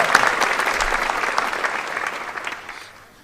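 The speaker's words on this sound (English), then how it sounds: "Another round of applause for Addison" Audience at a high school senior awards night applauding: dense, continuous clapping from many hands that holds steady for about two and a half seconds before fading out.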